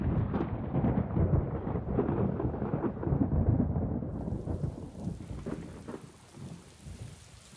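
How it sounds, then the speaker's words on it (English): Rain falls steadily and loudly in a mountain butterfly valley in southwest China, with rolling thunder rumbling through the first half before the downpour takes over as a dense, hissing patter; no voices. "It starts to rain just as the experiment is getting started."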